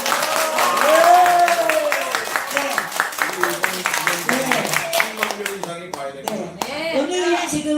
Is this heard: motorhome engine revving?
no